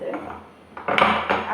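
Kitchen utensils knock and scrape while ingredients are crushed for a monsoon-season nadadoni recipe, a few close clattering impacts after a quiet pause, with no talk.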